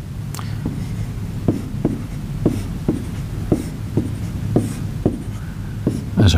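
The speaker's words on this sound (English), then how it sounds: "if I make a quick drawing" Pen sketching a quick diagram on paper, a series of about a dozen sharp scratchy strokes and taps in an uneven rhythm, close and fairly clear against a low background hum.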